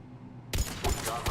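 A gunshot headshot in Mass Effect cracks sharply after half a second of near quiet, followed by a couple more loud, close bursts of impact and gunfire.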